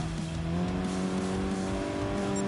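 Car engine in Gran Turismo Sport on the Tokyo circuit drones steadily at a constant pitch throughout, with a continuous tire squeal layered over it as the car corners, no talk.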